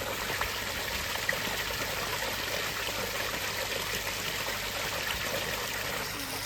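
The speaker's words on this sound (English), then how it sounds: "plenty of flow coming back into the pond" Water flowing back into a pond, a steady close trickling and splashing stream that holds an even level throughout with no voices.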